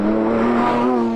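A Radford Type 62-2 sports car drives with its engine holding a steady, purposeful note at close range, a smooth sustained drone with no talk over it.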